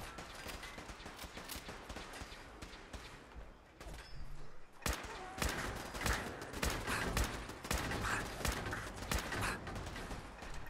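Turret gunfire in Fallout 76: rapid, repeated shots crackle in dense bursts throughout, growing louder and busier partway through, with faint voices occasionally in the mix.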